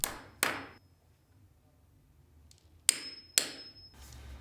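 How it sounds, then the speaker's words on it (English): A hammer drives a nail and punch into a timber floorboard: two loud hammer strikes, a pause, then two more sharp blows, close and alone in a quiet room. "nail and punch the first board"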